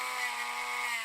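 A rotary tool fitted with a rounded sanding bit grinds steadily, a close, continuous high whine with a constant pitched tone and no pauses over the short span.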